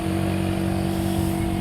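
Suzuki Gixxer 250 motorcycle with a widened exhaust pipe, its engine running in a steady loud close-up hum with firm low pulsing, no voices over it.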